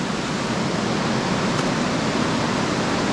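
Steady, dense roar of a waterfall in Meghalaya, India, heard close and unbroken, with no voices over the rushing water.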